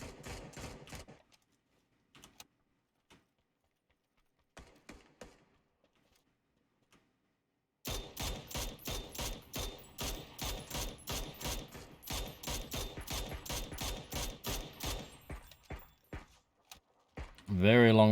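Long-range gunfire in a PUBG esports match: after scattered faint pops and a near-silent stretch, steady, rapid, evenly spaced shots ring out at a distance for about ten seconds, ending in a louder burst.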